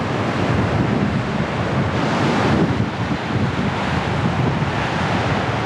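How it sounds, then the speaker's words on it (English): Strong wind at Black Head Beach on the New South Wales Mid North Coast buffets the microphone in a steady, loud roar, with the wash of surf blended underneath and no voices. "It is insanely windy now."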